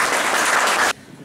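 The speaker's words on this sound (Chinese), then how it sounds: "所以我觉得就是要给他掌声" Audience applause for a film director honoured for thirty years of environmental justice work, a dense burst of many hands clapping loudly for about a second before cutting off sharply into quiet room tone.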